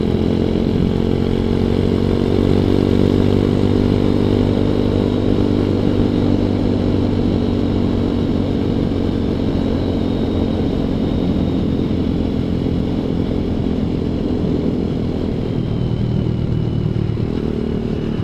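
A ZS190 Grom clone motorcycle cruises on a relaxed ride, its single-cylinder engine droning loud and steady up close, with a slight rev change near the end and no voices.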